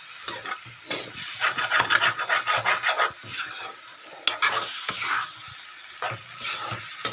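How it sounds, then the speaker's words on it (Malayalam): Chicken masala being stirred in a pan, with a steady scraping, sizzling rasp in rhythmic strokes close by and no talking. "എല്ലാം ഒന്ന് കയ്യിലുകൊണ്ട് മിക്സ് ചെയ്ത് വെച്ചിട്ടുണ്ട്. നല്ലപോലെ ഇളക്കണം."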